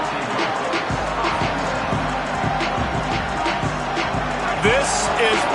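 A football stadium crowd roars steadily, a broad sustained wash of cheering and noise under a play-by-play announcer's voice, with faint thumps and a brief whistle-like rise near the end.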